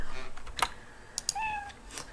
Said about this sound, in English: You encounter a cat.